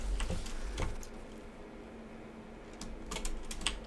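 Computer keyboard typing during a Valheim gaming session, a quick run of faint clicks near the start and another burst near the end over a low steady hum.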